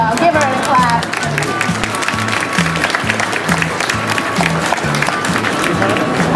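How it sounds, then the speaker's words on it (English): An audience at the Sydney Dog Lovers Show claps for a performing dog trick act: a steady wash of applause from a large indoor crowd, running beneath a presenter talking and some background music. "Good girl, give her a clap."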